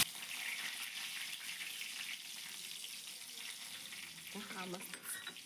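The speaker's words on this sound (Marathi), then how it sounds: "हे सगळं चांगलं फोडणी तडतडली." Curry leaves and dried red chillies crackle in hot oil for a Khandeshi dal batti tempering in a home kitchen, a faint, steady sizzle with a short clatter near the end.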